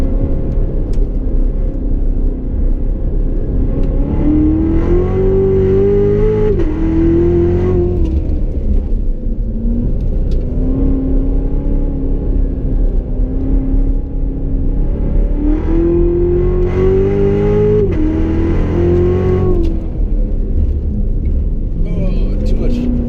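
A Chevrolet Corvette Z06 with the Z07 package and automatic transmission revs hard around a figure-eight track, its engine note climbing and dropping through repeated upshifts in a loud, continuous roar with someone speaking over it.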